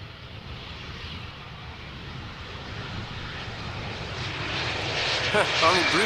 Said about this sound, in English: Only briefly opening the reverser slots there.